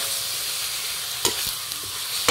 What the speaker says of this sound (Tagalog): Lagyan natin yung karne na. At ipa-crunchy-crunchy muna natin.